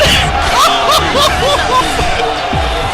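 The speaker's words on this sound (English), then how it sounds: "The crowd is going nuts." Crowd at a varsity high school game erupts in loud, continuous cheering and whooping, with excited shouts rising over a steady roar and a broadcaster's voice mixed in.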